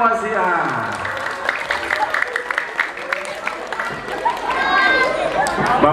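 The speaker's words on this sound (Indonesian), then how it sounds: "Ya tepuk tangan dong buat santri Al-Wasi'ah." A mosque audience of students claps together in a burst of applause that swells and lingers, with crowd chatter and a voice speaking over it.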